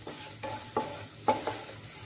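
Shredded coconut fries in a hot pan for a millet khichuri, giving a low steady sizzle broken by a few sharp scrapes of a spatula stirring it around.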